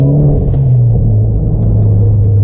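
Mitsubishi Evo X fitted with a Tomei aftermarket exhaust, idling close by with a loud, steady, deep rumble throughout.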